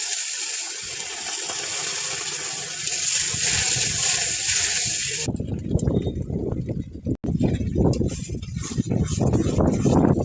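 Water poured into a pan of cooking masala for a fish dish, a steady hissing sizzle that gives way to a loud, rough gushing and bubbling splash close by.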